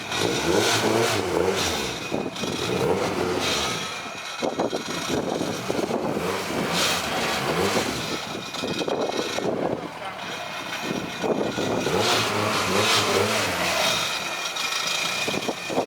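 Honda K24 engine swapped into a Toyota MR2 with a twin-disc clutch, revving through the full stretch with a loud, steady drone that rises and falls, and a voice talks intermittently over it.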